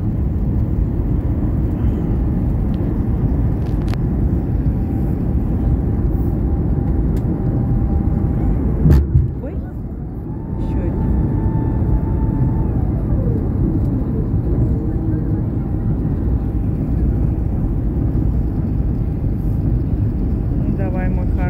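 An Airbus A380 airliner lands near Dubai with a continuous loud jet roar, a brief thump midway, then the roar carrying on steadily, with voices talking over it.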